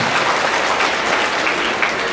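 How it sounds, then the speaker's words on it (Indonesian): Children at an Al Washliyah madrasah in Tembung clap together, a loud, close, tightly packed roar of small hands that holds steady from start to finish without talk over it. "Tepuk tangan untuk Wasliyah."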